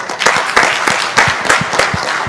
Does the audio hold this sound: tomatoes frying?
no